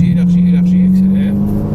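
A Ferrari on a race track pulls hard under acceleration, a loud, steady engine drone close by, while an instructor talks over it.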